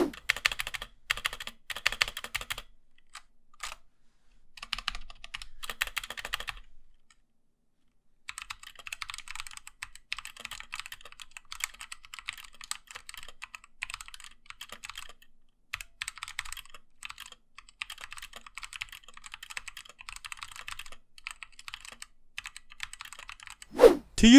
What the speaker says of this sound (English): There is also a lot of case ping on this keyboard, which makes it pretty loud to type on.